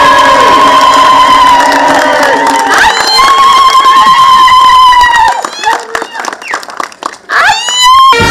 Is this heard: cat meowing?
no